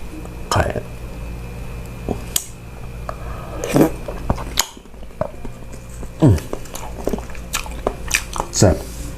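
Close, wet biting and chewing on whole braised palo eggs, one egg per bite, with squishy mouth sounds and occasional gulps, in irregular bursts.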